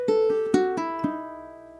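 Ukulele fingerpicked in a cascading pull-off lick for an eerie Halloween-style etude, a quick run of plucked notes falling in even sixteenths, ringing and decaying alone.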